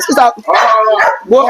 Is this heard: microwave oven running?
no